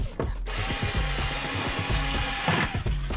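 A power tool tightens two bolts on a Coocaa TV during a repair, making a loud, close, steady whirring drone with short rattling pulses over about three seconds.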